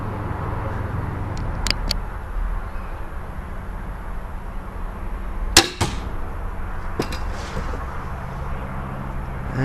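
Crossbow bolts shot at a target: three sharp, brief thwacks spaced a few seconds apart over a quiet outdoor background hum.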